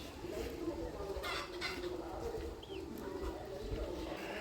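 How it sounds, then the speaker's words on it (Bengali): Chickens cluck softly in a village yard, a busy, continuous chatter of fowl with faint background voices. "মুরগি"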